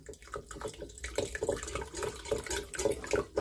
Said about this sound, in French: Je commence en mélangeant ma maïzena avec de l'eau.